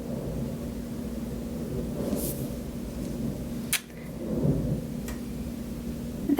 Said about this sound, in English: That does sound like a nice thunderstorm is rolling in